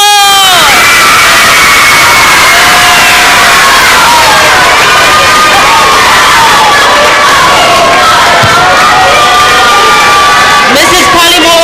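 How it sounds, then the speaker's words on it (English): A loud crowd of school children cheers and shouts at an awards gathering, a dense, sustained wall of high voices with whoops and screams, with applause mixed in throughout. "How about let's give a big round of applause, cheer for Mrs. Palimo'o!"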